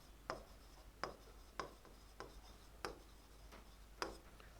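Chalk or marker tapping and scratching on a board, a faint series of about seven sharp strokes spaced roughly evenly over a low background hum.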